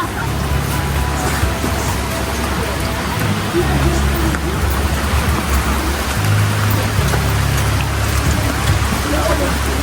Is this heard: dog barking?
no